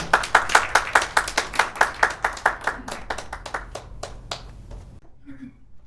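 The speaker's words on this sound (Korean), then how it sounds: "박수로서 강연 부탁드리겠습니다." A lecture audience at a Korean culture talk claps in a brisk, even rhythm for about four seconds, the sharp claps fading as the applause ends and the room falls quiet.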